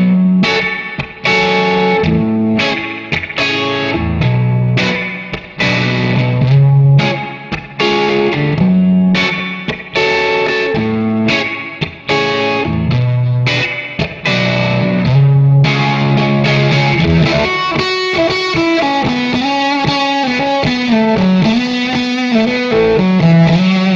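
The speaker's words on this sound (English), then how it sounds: "For the majority of the fuzz tones, I'll be using an Earthquaker Devices hoof, along with a Love Pedal Kalamazoo, Formula 76 from Solid Gold Effects" An electric guitar plays through fuzz, tremolo and reverb pedals, including an Earthquaker Devices Hoof fuzz and a T-Rex Roommate reverb, on a G&L ASAT Special. Loud, distorted chords and riffs ring out alone for about twenty seconds.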